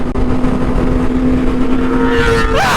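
A Lamborghini engine drones loudly and steadily up close, then climbs into a rising rev at the very end.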